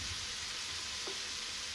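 Prawns fry on a hot dosa griddle, giving a brief, steady, soft sizzle close by with no other sound.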